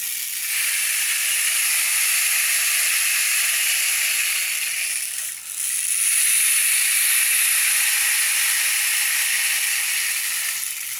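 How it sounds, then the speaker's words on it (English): Steady, even hiss of rain, dense and continuous with no talking, dipping briefly at the midpoint before resuming at the same level. "it's the sound of rain."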